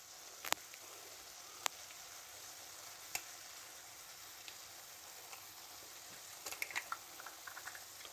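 Eggs frying in a pan with onions and potatoes for an Afghani breakfast, a faint steady sizzle with a few sharp clicks and taps of utensils scattered through it.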